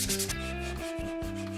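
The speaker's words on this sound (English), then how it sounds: "For the left shoulder, I'm going to finish using this random orbital sander." A random orbital sander works over a 3D printed shoulder armour piece, giving a steady, continuous buzzing hum with a fluctuating whine throughout, close and alone.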